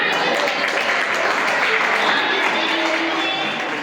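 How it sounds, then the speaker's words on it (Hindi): Audience applause at a community stage event on water conservation, a dense, even patter of clapping that carries steadily for a few seconds at moderate loudness. "फिर से एक बार तालियां।"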